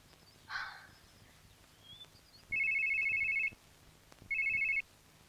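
A phone rings on an outgoing call, two long electronic ring tones sounding through the earpiece with a pause between them, fairly clear against quiet room ambience.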